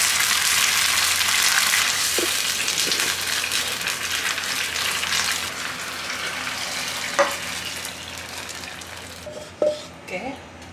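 Cabbage-wrapped chicken rolls fry in a pan with a steady, soft sizzle, joined by a few light clinks and taps toward the end.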